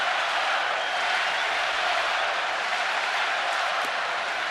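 Home crowd at an Orioles baseball game in Baltimore against the Yankees, a steady, dense roar of cheering and clapping that fills the whole stretch without easing.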